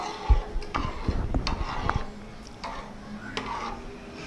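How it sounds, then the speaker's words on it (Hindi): Chicken nihari thickened with flour being stirred in a pot: soft scraping and light clinks of a spoon against the pot, irregular and close, fading to a quieter low rumble after a couple of seconds. "अब हम इसको चलाते रहेंगे ताकि ये अच्छी तरह मिक्स हो जाए इसके अंदर"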